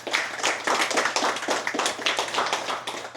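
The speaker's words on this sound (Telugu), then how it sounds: "గంట పైన మనం అందరం ధ్యానం చేసినందుకు గట్టిగా చప్పట్లు కొడతాం ఒకసారి" A group gathered for a meditation session claps hands together after meditating for over an hour, a lively stretch of rhythmic clapping heard close and fairly loud, with individual claps pulsing steadily throughout.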